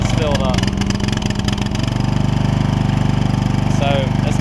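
Toro Wheel Horse 1232XL hauler tractor engine idling after a new carburetor kit install, a steady loud rhythmic chug with some louder revving early on, while a person talks briefly over it.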